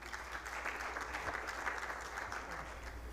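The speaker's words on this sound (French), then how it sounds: "Merci de l'accueillir avec des applaudissements." Faint, distant applause from an audience at the Economy Business Awards ceremony, a steady soft patter with a low background hum.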